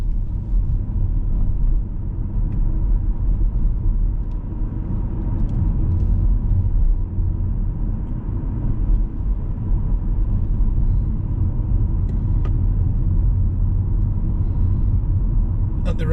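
A car drives on roads around Bradford Heaton during a driving test, with a steady low engine and road rumble throughout and a voice talking over it.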